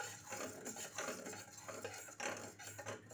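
A spoon stirs colored batter for patishapta pitha in a bowl, producing soft repeated scraping and clinking strokes that are close and fairly quiet, with no talking.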